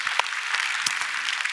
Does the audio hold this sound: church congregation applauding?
yes